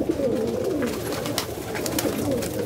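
Racing pigeons coo continuously at a nearby loft, a low murmuring chorus of overlapping calls with faint rustling and occasional brighter chirps in the background.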